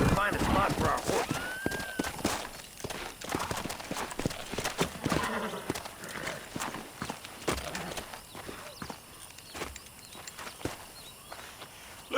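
Horse hooves clop in an uneven walking rhythm in the video game Red Dead Redemption, with a brief whinny near the start, moderately close and fading toward the end under background game sounds.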